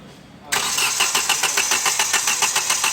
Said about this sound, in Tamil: ஸ்டார்ட் பண்ணு சதீஷ்.